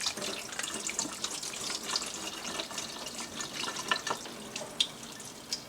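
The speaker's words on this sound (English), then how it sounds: "But you can use tap water to rinse the beef as well." Tap water runs into a sink while beef is rinsed clean of baking soda, making a constant soft splashing hiss with small irregular drips and spatters, fairly quiet and with no speech.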